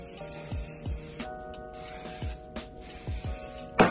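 Hair setting spray hisses from a can onto wavy, frizzy hair ahead of straightening, several short, close aerosol bursts separated by brief pauses.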